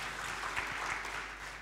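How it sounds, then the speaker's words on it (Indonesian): Congregation clapping together during a Sunday worship service at a church in Bali, a steady, fairly dense wash of applause lasting throughout at moderate level, with a faint voice briefly underneath. "Kita beri tepuk tangan kepada Tuhan."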